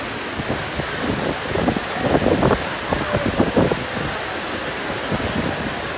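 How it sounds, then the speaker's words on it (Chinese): Heavy typhoon rain pours outdoors near an airport in Manila, a dense steady hiss with gusting wind that swells slightly midway, with no one speaking. "这台风天气下着大雨"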